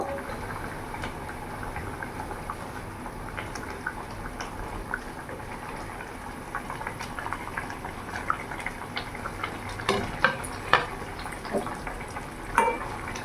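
Raw plantain koftas slipped one by one into a boiling vegetarian curry, a steady bubbling simmer with soft plops and light clinks growing louder toward the end.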